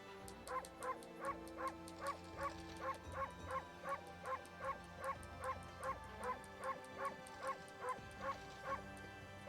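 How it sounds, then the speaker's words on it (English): Amaterasu, the white wolf in the video game Okami HD, gives a long run of quick, regular barks and yips, about two per second, loud and clear over light game music. "There should be a bark button."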